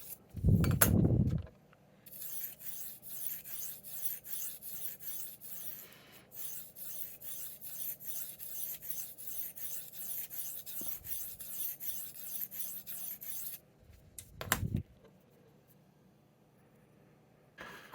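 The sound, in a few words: knife being sharpened on Work Sharp field sharpener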